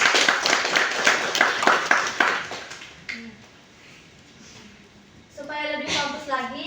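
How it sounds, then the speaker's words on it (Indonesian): A classroom of students in an Islamic religious education teaching-practice lesson claps in quick, regular rhythm for about three seconds. Quiet follows, then a teacher's voice and children's voices. "Tepuk tangan dulu"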